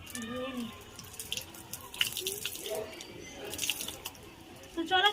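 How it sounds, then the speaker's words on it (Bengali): Tap water runs steadily into a sink while very long hair is washed during a winter shampoo routine, a continuous splashing hiss with drips and squishy wet handling, someone speaking over it. "তো চলো চুলটাকে ভালো করে ধুয়ে নিই।"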